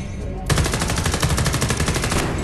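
After a brief quiet moment, rapid automatic gunfire bursts out in the video game Homefront: The Revolution and rattles on continuously, loud and close.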